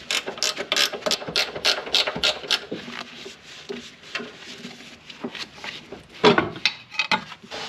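Rapid clicking bursts of a ratchet wrench with a 14 mm socket loosening the sway bar nut on a 2004 Pontiac GTO, close and crisp, followed by slower scattered ratchet clicks and a sharp metallic knock near the end.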